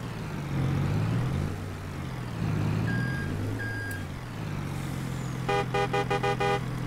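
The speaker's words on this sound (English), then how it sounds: "Nice horn sound on it with those big air horns on the top." A Peterbilt truck from a 1960s–70s North American truck mod for a driving video game idles with a low engine drone, then its big roof-mounted air horns sound in a quick series of short blasts.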